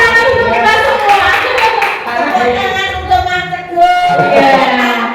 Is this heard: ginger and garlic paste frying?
no